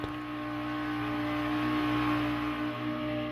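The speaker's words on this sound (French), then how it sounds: "Le petit moteur est malheureusement aussi bruyant que l'autre." A small boat motor on the Niger River drones noisily and steadily, a close, continuous engine hum with a buzzing tonal whine and no pauses.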